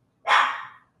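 A small dog gives a single sharp bark, close and fairly loud, fading quickly into quiet.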